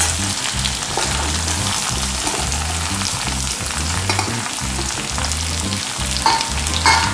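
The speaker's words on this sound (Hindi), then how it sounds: "अब इसी के साथ हम ये आंवला भी इसके अंदर डाल देंगे।" Amla and curry leaves fry loudly in a pan for amla chutney, a dense continuous sizzle with rhythmic low stirring scrapes running throughout, close and steady, with no talking.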